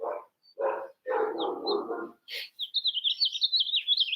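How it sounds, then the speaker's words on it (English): A dog barks excitedly in several quick bursts, close and loud, followed by a run of rapid high chirping bird calls. "Someone's dog is going crazy."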